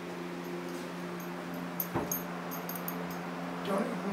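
Dogs whimper faintly at close range over a steady electrical hum, with a few soft whines and yips breaking through.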